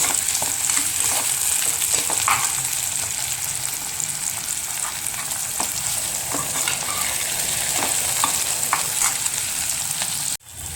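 Chopped tomatoes and onion sizzle and fry in a pan for a Wada-style val bean curry, a steady close crackle with occasional stirring scrapes that cuts off abruptly near the end.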